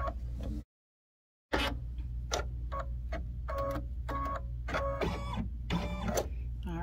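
An embroidery machine stitches a placement line for a window on an 8x8 hoop design, a steady mechanical hum with rapid rhythmic needle ticks after a brief silent pause, close and fairly loud with no talking.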